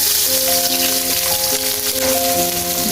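Sliced onion and tomato sizzle steadily in a hot frying pan while preparing beef gola kabab, a continuous close crackle with a faint tonal hum underneath and no talk.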